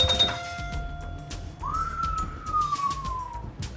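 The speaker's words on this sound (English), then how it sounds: "glorious chimes" Pinball machine powering on after repair of stuck parts, sounding a clear sustained tone that rises then slowly falls, preceded by a few quiet clicks, heard alone without speech.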